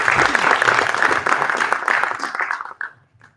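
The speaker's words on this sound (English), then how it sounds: "And now let's give a warm applause for Eugene and Gabriel." An audience at the Rays 2025 closing presentations in the Tekniska Museet gives a warm, dense round of applause for two presenters. The clapping continues steadily, then fades out quickly near the end, leaving a few scattered claps.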